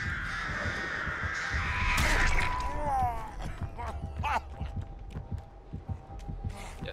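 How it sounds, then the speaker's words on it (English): Crows caw and flutter in the horror game Dead by Daylight, harsh calls clustered in the first few seconds over a low throbbing heartbeat-like pulse, with scattered clicks and rustles continuing afterward. "Got me covered in crows."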